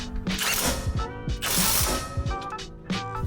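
A hand ratchet clicks in quick bursts, tightening track bar bolts on a 2022 Toyota Tundra. Several short runs of sharp pawl clicks sound close up and alone, broken by brief pauses between strokes.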